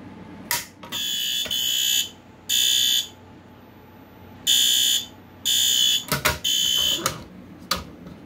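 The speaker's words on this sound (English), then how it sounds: "So let's pull the fire alarm. We're gonna make this quick, because this thing is loud." A wall-mounted fire alarm horn/strobe, taped over, sounds loud repeated blaring bursts of about a second each in an irregular pattern, with quieter gaps and a few sharp clicks between them, and no talk.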